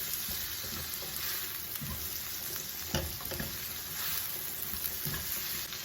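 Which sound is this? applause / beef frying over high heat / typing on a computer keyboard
beef frying over high heat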